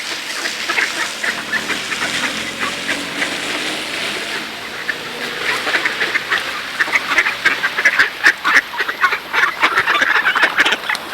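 Wild ducks being fed bread in autumn in Vsevolozhsk, a flock quacking loudly and continuously nearby, the calls growing busier and more excited toward the end.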